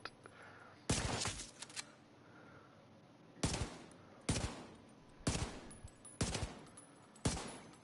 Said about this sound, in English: I understand this gun because it is a 50 caliber gun.